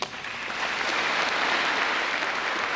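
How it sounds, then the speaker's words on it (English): A conference hall audience applauds a speaker after a motion, with steady, dense clapping that swells quickly and holds at full strength throughout, with no voices over it. "Applauded by the Secretary of State"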